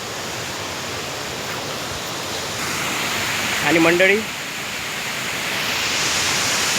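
Ghonsari waterfall in Kankavli taluka, Sindhudurg district, Konkan, gives a steady broadband roar that runs unbroken throughout, with a voice speaking briefly around the middle.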